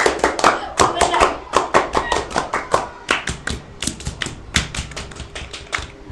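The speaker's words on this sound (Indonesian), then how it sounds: "3 kali tepuk pramuka." Pramuka scouts clap in the group's rhythmic pattern, sharp hand claps in quick repeated bursts through the whole stretch, close and loud, mixed with light vocal sounds.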